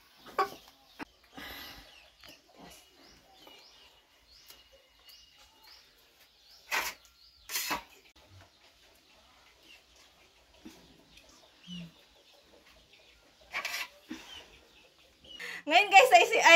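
A chicken clucks and calls in short, scattered bursts before being slaughtered for dinner, with brief rustles and quieter stretches between calls and a louder flurry near the end.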